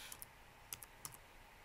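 Keys clicking on a computer keyboard in a short typing burst: sharp, near, moderately quiet taps arriving in small uneven clusters of two or three, with brief pauses between.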